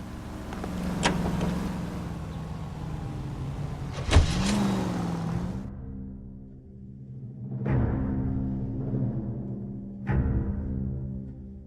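A car drives in the video game L.A. Noire, a steady engine hum with a few sharp thumps and clicks, dropping quieter partway through before picking up again.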